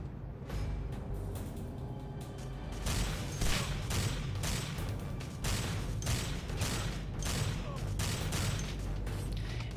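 Security robots fire machine guns in the shooter game Alpha Prime: after a quieter start, steady rapid bursts of gunfire begin and keep going, dense and fairly loud over a rumbling background.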